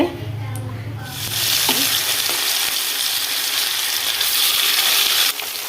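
Fish pieces frying in hot oil with turmeric and salt, a steady, close hiss and sizzle that swells louder after a moment and stays constant throughout, with no talking.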